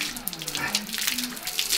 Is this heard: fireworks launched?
no